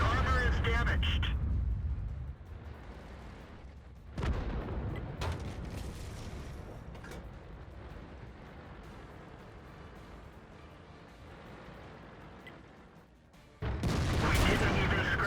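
Artillery shell explosions on tanks in the World of Tanks game, an E100 hit by artillery: loud booming blasts at the start and end with rumbling battle noise between, under talk.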